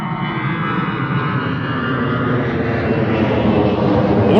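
An EasyJet Airbus A320 departs with a loud, sustained jet-engine roar, broad and steady, slowly building in intensity as it powers away, with no voices over it.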